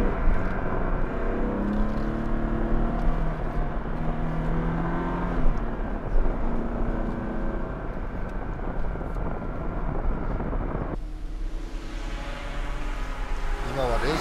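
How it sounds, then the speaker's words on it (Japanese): Nissan Z car engine running hard on a track, a loud steady drone with rising and falling pitch from revving and gear changes, heard from inside the car with a sharp shift in tone near the end; someone talks over it. "ただこれエンジン調子いいな"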